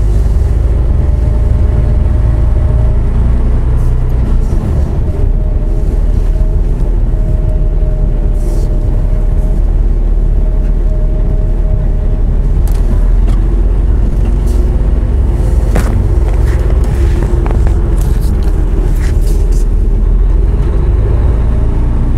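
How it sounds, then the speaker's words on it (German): A semi truck tractor drives solo without a trailer, a loud continuous low engine drone and road rumble filling the cabin steadily throughout with no talking. "So, jetzt fahren wir nämlich gerade solo, ohne irgendwas dran."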